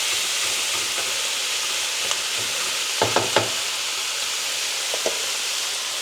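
Chilli beef for a homemade Mexican chilli fries steadily in a pan, a dense continuous sizzle with a few brief scraping stir knocks around the middle and near the end.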